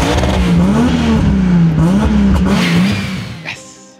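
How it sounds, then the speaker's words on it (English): A car engine revs loudly and steadily, its pitch rising and falling in waves for about three seconds before the sound cuts off. "the two oldest engines here sound by far the best"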